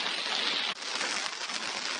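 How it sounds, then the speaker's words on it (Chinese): Heavy rain on a farm in Nanyang, Henan, at harvest time, where peanuts and grain lie under large plastic sheets. It makes a dense, steady hiss with a brief dip partway through, then continues with scattered patters. "今天家里面又下大雨了"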